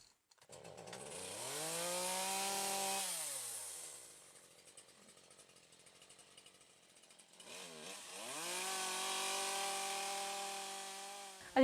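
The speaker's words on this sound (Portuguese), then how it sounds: "a minha ferramenta mais usada é a motosserra" A chainsaw pruning trees in an agroforestry plot, revving up loudly for a few seconds, dropping to a lower idle, then revving again, close by and with no talking.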